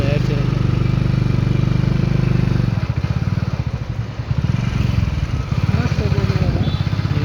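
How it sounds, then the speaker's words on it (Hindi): A motorcycle engine drones loud and close throughout a night ride in Thane West, Mumbai. Wind buffets the microphone, and the rumbling steadies as the revs shift partway through. "मजबूत पार्टी हम लोग बाइक से घूम रहे हैं रात को।"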